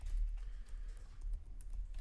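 Typing on a computer keyboard, a soft continuous patter of key presses close by with no voices.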